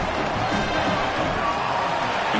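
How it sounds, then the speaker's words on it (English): A stadium crowd at a college championship football game roars steadily after a touchdown, a dense, continuous wash of cheering and noise filling the whole stretch. "Listen to the crowd."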